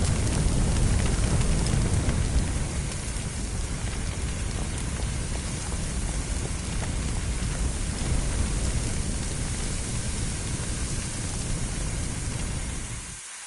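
Water from a hose sprays onto flames during a firefighter training mission in Firefighter Simulator, a steady loud hiss of spray that runs without a break and cuts off at the end.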